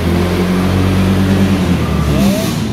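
Motorcycle engine revving loudly up close as the throttle is pulled, a dense steady roar that shifts pitch toward the end as the revs change.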